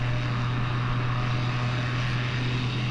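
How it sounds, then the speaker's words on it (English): A pusher-propeller plane's engine in Microsoft Flight Simulator drones steadily at cruise, about 130 knots, a constant loud hum with a strong low tonal buzz and no pauses. "It does have a fairly strong engine on this plane."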